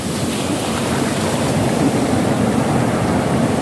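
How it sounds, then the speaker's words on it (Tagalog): Sea waves wash steadily onto a hot sandy beach, a continuous roaring surf that stays close and even with no break. "Grabe ayan ang alon"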